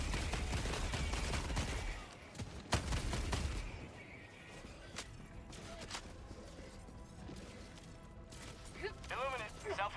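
Rapid bursts of gunfire and explosions in the sci-fi shooter Helldivers 2, loud and dense at first, then sparser sharp shots, with a voice talking through it.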